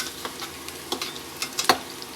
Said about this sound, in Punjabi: ਲੋ ਜੀ ਆਪਣੇ ਪਕੌੜੇ ਬਣ ਗਏ ਤੇ ਤੇਲ ਚ ਆਪਾਂ ਪਕੌੜੇ ਕੱਢ ਕੇ